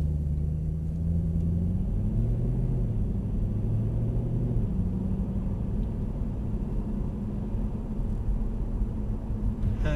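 A Mercedes SL63 AMG engine drones and rumbles low and steady from inside the car as it drives slowly across a wet test track, its pitch shifting a little as it moves along.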